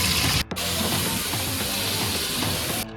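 Broken crab pieces hit hot oil in a pan and set off a loud, dense hiss, briefly cut by a short gap before the steady sizzle resumes close by.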